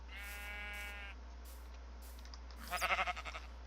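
A Minecraft sheep lets out a single wavering bleat, followed by a second shorter bleat and a quick rattling burst of clicks, all over a steady low background hum.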